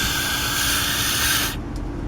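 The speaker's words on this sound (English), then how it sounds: "And after that, spray in that hole again." Cleaner sprayed into the hole of a stuck EGR valve: one loud, steady, close aerosol hiss that stops abruptly, followed by a brief short spurt.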